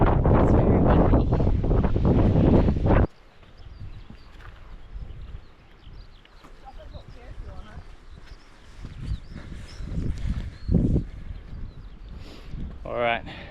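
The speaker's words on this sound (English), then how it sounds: "It's very windy." Heavy wind buffets the microphone near a mountain summit in a loud roaring burst at first, then gusts come and go more softly while a person talks.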